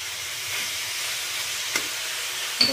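Chow mein noodles fry in a pan with a steady, continuous hiss of sizzling oil, close and moderately loud, with a faint tap of the utensil near the end and no talk.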